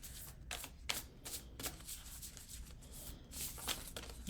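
Slick new cards from an astrology oracle deck are shuffled and pulled in repeated soft riffling bursts, fairly faint and close, with brief pauses between flicks and no talk.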